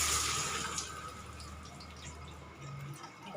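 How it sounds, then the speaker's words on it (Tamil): Water pours into a pan for semolina upma, a rushing, splashing flow that is strongest at the start and then settles into a quieter trickle, heard up close with no talk. "ஒரு கிளாஸ் ரவாக்கு ஒரு சொம்பு தண்ணி ஊற்றணும்."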